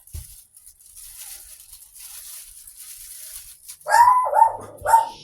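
A near-silent stretch, then a dog barks sharply three times in quick succession close by.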